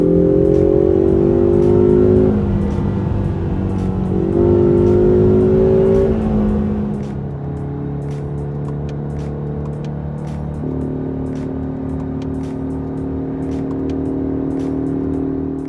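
A 2020 Ford Mustang EcoBoost Convertible with active sound switched on revs loudly and close up, a droning engine tone that rises, dips and swells again before settling into a steadier, lower idle-like hum.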